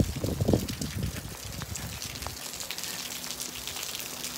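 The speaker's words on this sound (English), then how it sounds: "Boy, it's raining pretty hard out here." Heavy autumn rain falls outside by a craft brewery restaurant near Lake Tazawa in Akita, Japan, a close patter of drops and splashes over a soft steady hiss.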